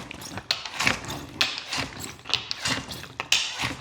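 An Italian-made bottle washer from Country Brewer in use, giving a run of close, irregular mechanical taps, clicks and short spurts, with faint voice under parts.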